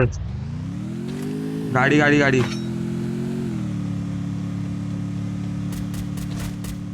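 A vehicle drives in the Free Fire game, its engine a steady, humming drone that briefly swells louder, followed by a few light metallic clinks near the end.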